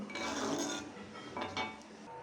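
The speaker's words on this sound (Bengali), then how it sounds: "ভালো করে একটু নেড়ে নেব" A mixture is stirred in a cooking pot with a utensil, giving faint metallic scrapes and light clinks against the pot that come in short uneven strokes, quiet and close, with no talking.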